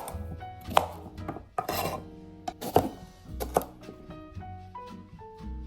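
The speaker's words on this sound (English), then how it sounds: "I want to chop off the stalk of this broccoli" A knife chops through a broccoli stalk on a cutting board with several sharp, irregularly spaced thunks, close and clear, with softer rubbing and shuffling sounds between the cuts.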